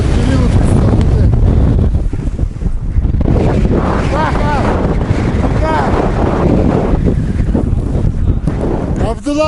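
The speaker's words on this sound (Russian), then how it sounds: "Ветер сильный, идет по такому вот периоду." Strong wind roars without letup high on Mount Elbrus near the summit, buffeting the microphone in heavy, steady gusts while a voice speaks faintly underneath.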